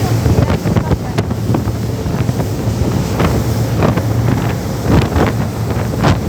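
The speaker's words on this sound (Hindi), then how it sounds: "हवा भी काफ़ी तेज़ चल रही है" Strong wind at sea on a ferry crossing from Spain toward Tangier, Morocco, roars loudly and continuously into the microphone, with buffeting gusts over rushing water and a low engine drone beneath.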